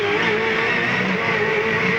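V8 Supercars race cars, including a silver and grey Ford, roar down a street circuit in Canberra in 2001, a steady loud engine drone sustained throughout with no break.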